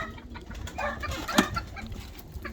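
Ispenç roosters clucking close by in a few short, scattered calls over a busy, rustling background, with one sharper call standing out midway.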